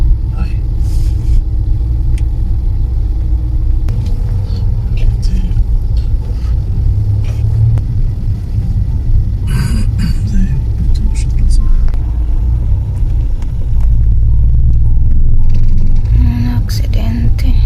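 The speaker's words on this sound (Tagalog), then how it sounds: "Super traffic ay." Street traffic rolls past in a Swedish town, a continuous low rumble of cars with occasional sharper hisses as vehicles pass close, while people murmur quietly over it.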